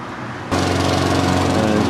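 Lawn mowers drone loudly and steadily at a German war cemetery in Normandy, the engine noise starting abruptly after a quieter half-second and then holding constant.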